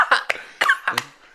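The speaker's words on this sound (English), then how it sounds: "Cough." Several sharp, close coughs from one person come in quick, uneven bursts, with brief breathy pauses in between.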